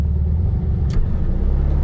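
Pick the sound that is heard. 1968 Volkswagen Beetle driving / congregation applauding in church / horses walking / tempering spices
1968 Volkswagen Beetle driving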